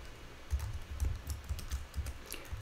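Keys clack on a computer keyboard in a steady run of close, distinct presses with thumpy low knocks, no speech over the typing.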